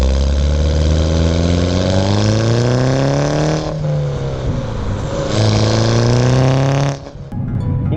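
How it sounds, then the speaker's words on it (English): A Mini Cooper S exhaust booms loud and close while driving, its engine note climbing through the gears, with brief dips at each shift and a sharp drop-off right at the end. "I don't know if you can hear that exhaust. It sounds fan-freaking-tastic."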